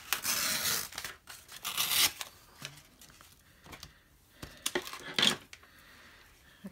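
Paper torn by hand for decoupage on a canvas board, a long ripping stretch at first followed by shorter rips, crinkles and small handling noises, close and fairly loud with no talking.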